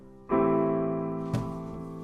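Piano chords for the intro of a song: a sustained chord rings out after a short pause, then a second chord is struck around the middle and left to decay, played alone with no voices.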